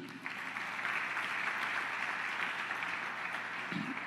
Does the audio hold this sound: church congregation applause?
yes